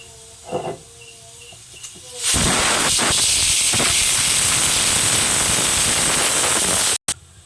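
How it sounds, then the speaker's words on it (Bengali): A pressure cooker on a home stove, cooking an egg curry, lets out a loud, steady rush of hissing steam that starts abruptly after a few quiet seconds and runs on before cutting off near the end. "প্রেশার কুকারে ঢাকনা লাগিয়ে এটা সেটি দিয়ে নেব"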